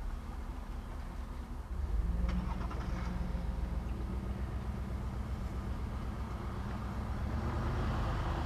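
A 1985 Bentley Mulsanne Turbo pulls away, its engine a steady low rumble that swells slightly as the car gets moving, heard close and continuous with no talking.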